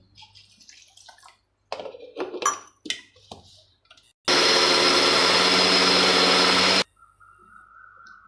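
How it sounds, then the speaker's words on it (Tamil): A kitchen mixer grinder whirs loudly and evenly for a few seconds while grinding soaked rice, coconut, salt and asafoetida with water into batter, preceded by clinks and handling noises and followed by a faint hum. "இப்போ கொஞ்சம் தண்ணி ஊற்றி அரைக்கலாம்"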